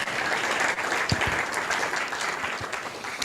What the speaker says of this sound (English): No, really, please, a round of applause once again.